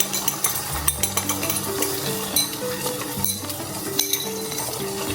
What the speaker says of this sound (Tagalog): magluto muna ako guys ng itlog